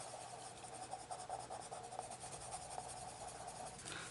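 Colored pencils scratch steadily across paper during adult coloring, a soft continuous scraping with faint rhythmic strokes, close and quiet with no talk.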